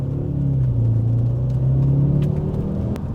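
An Audi RS6 C5 with a 5-speed automatic gearbox gives a loud, steady engine rumble inside the car, with a slight dip in tone as the gear changes; no one speaks.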